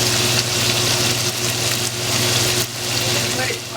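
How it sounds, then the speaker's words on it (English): Cornmeal-coated shrimp sizzle in hot oil, a steady, loud crackling hiss close at hand with a brief dip partway, with no voices. "So now our shrimp is ready to be fried."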